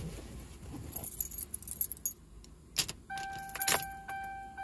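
Keys jangle and click close by in the ignition of a Ford Crown Victoria Police Interceptor in a quiet car interior, with light metallic rattles followed by a steady chime tone and a sharper clack near the end.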